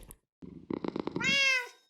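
A Minecraft cat gives a few short soft sounds, then a clear rising meow that holds for a moment before fading, close and fairly loud with no talk over it.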